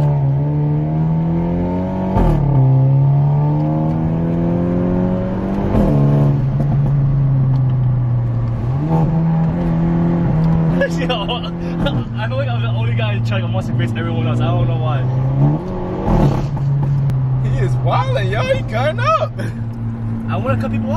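A tuned Hyundai Elantra N at full throttle on a race track, engine pitch climbing through each gear and dropping at every shift in a repeating pattern, close and loud, with people talking over it.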